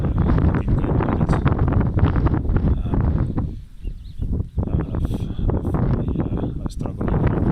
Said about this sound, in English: This wind is very strong today.